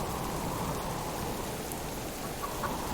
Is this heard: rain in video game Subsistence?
yes